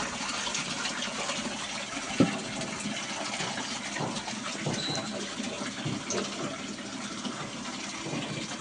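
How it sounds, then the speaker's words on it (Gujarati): Clean running water pours steadily while something is washed by hand, a continuous close splashing gush with a brief knock partway through. "મેં તો ચોખ્ખા પાણી ધોઈ કાઢી દે હો"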